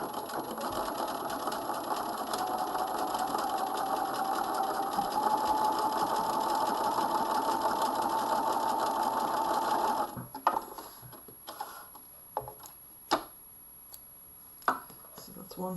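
Sewing machine edge stitching a coat sleeve seam, running as a steady, fairly loud whir for about ten seconds before stopping, followed by a few scattered clicks and handling knocks.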